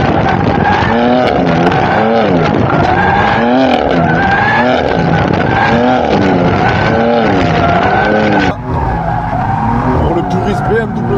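BMW M4 GTS drifting, its engine revving hard in repeated surges while tires squeal continuously in wavering howls, loud and close, with a sudden drop in intensity near the end and occasional speech from inside the car.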